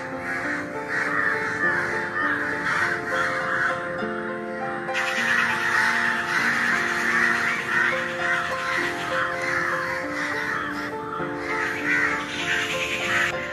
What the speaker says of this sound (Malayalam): എത്ര കാക്കയ.